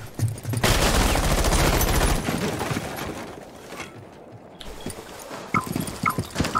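Gunfire in the tactical shooter game Rainbow Six Siege as a window is shot down: a dense, loud burst of rapid shots, then scattered impacts and clatter.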